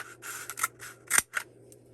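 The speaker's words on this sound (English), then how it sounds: "pick up our utility scissors and cut lengthwise all the way down" Utility scissors cut lengthwise along a cardboard toilet paper tube, giving a series of quiet, close snips and rasping crunches in short bursts, with a sharper snap near the end and no talking.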